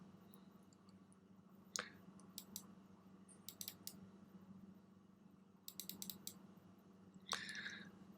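Several sharp, faint computer mouse clicks spaced apart, including a quick cluster, over a low steady hum in a quiet room.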